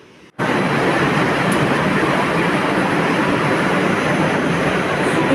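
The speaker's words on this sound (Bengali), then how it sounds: "এই যে দেখতে দেখতে আমার মেট্রো চলে এসেছে তো চলুন উঠে পড়ি" A metro train pulls into an elevated station with a sudden, loud, continuous roar of wheels and motors that starts abruptly and holds steady, close by.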